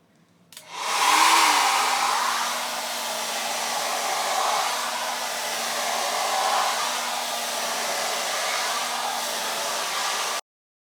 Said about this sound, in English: I'm now going to blow dry my hair at very low heat using this blow dryer.